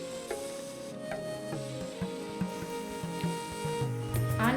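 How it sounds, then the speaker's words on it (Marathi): A tempering of spices for katachi amti sizzles steadily in hot oil, with a continuous fry crackle and a few clinks of a utensil stirring, and no talking. "इकडे आता कटाच्या आमटीची फोडणी पण करायची चाललेली आहे"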